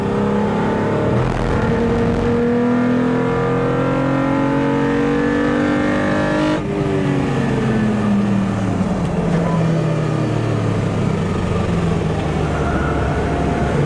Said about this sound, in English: Amazes me how these C1s go around the corners.